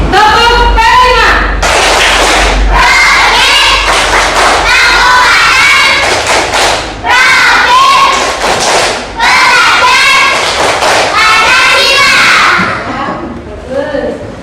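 Indonesian schoolchildren in a classroom chanting the tepuk lima clapping routine, loud rhythmic group claps punctuating their shouted unison chant, close and continuous before trailing off at the end.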